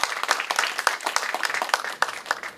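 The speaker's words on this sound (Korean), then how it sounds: "나오실 때 뜨거운 박수 부탁드릴게요." A lecture audience claps warmly for the speaker, giving a dense, close patter of many hands for a couple of seconds with no talking over it.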